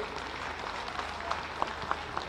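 Crowd at the UP Global Investors Summit applauding the makers of RRR, a steady wash of clapping with a few sharper individual claps standing out near the end.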